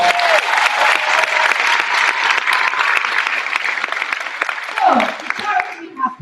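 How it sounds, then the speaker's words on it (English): An audience applauds loudly and steadily in an indoor hall for Ryan at an autism talent show, the clapping dense and sustained before tapering off near the end. "So a big round of applause for Ryan"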